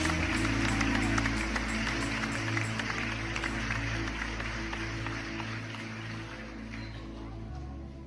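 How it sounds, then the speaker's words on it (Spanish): Church congregation clapping together during a lively worship service, a dense, steady wash of applause with music sustained underneath that holds strong throughout before easing slightly toward the end. "Aplaude al Dios que vive, aplaude al Dios que vive."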